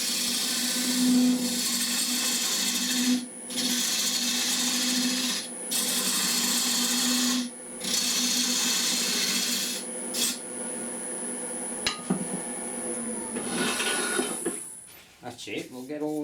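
Wood spins on a lathe while a tool cuts and rasps against it, a loud continuous scraping broken by several short pauses, close by, with some speech underneath.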